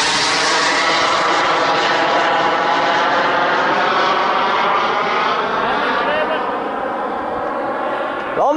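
Propeller aircraft during landing, heard from the pilot's position in the cockpit: a loud, steady engine drone with a constant whirring buzz throughout, slowly easing slightly toward the end.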